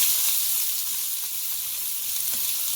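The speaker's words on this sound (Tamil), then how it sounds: "வெங்காயம் போட்டுக்கலாம்" Onions fry in hot oil with mustard seeds, a loud, continuous close-up sizzle with faint crackles, no talking.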